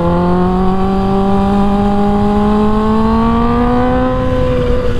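A Kawasaki Ninja H2 motorcycle engine hums loud and close while riding through canyon roads, its steady tone rising slowly in pitch as it accelerates, with continuous wind rush underneath.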